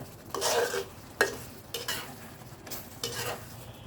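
A utensil stirs chili seeds and an herb paste in a pan for fried fish, making four close scraping strokes with faint sizzling underneath.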